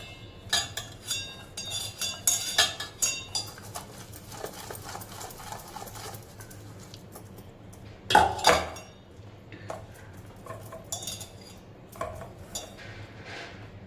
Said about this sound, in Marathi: हे आगळबरोबर आधी मिक्स करून घ्यायचं व्यवस्थित.